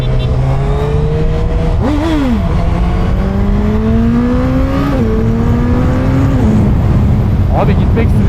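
A Suzuki Hayabusa 25th Anniversary motorcycle rides at light throttle, its engine droning loud and close in a steady tone that climbs slowly with brief dips, over constant rushing wind noise.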